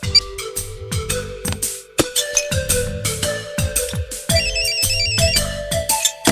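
A melodic phone ringtone plays loud and close, a bright electronic tune of quick repeating notes with a short pause partway through.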